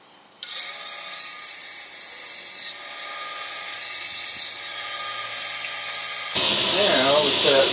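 Band saw cutting through a cedar and white pine box to remove the front and back, a steady high-pitched whining cut with a tonal machine hum, shifting in pitch as the blade loads and eases.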